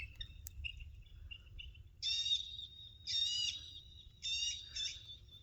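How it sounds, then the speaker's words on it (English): Electronic predator bird calls from a solar-powered loudspeaker on a pole ring out in repeated bursts of shrill, warbling cries over a low background rumble. "Those aren't birds and animals making that sound. That's actually a solar-powered speaker up on that pole."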